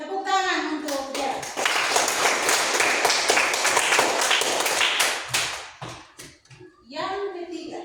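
Classroom applause for a student, a burst of lively clapping from children lasting several seconds, with a teacher and children talking before and after.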